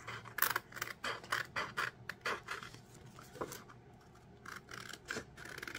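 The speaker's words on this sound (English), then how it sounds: "I'm just trimming around the edge of the tattoo as close as possible as I can get." Small scissors snip in quick, regular cuts while trimming close around the edge of a tattoo decal for a curved cup. After a short pause there are a few more cuts. The sound is faint and close, with no voices.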